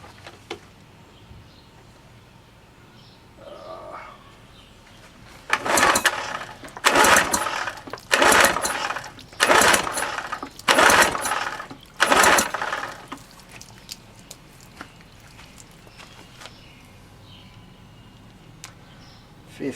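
A cold 1975 Evinrude 6 hp outboard, spark plugs removed, is pull-started with the throttle open wide: six loud rhythmic rope pulls spinning the engine over about once a second, with quiet pauses before and after.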